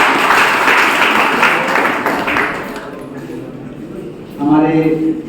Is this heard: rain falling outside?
no